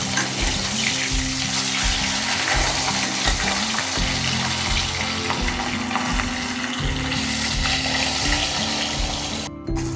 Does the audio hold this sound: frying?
yes